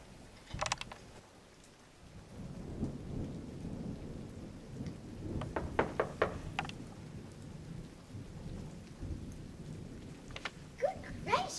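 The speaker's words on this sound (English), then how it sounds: "There was thunder and lightning, and the rain poured down in torrents." Thunderstorm with pouring rain and knocking at a gate, low rumbling storm under steady rain, with sharp knocks in scattered clusters, faint and distant overall.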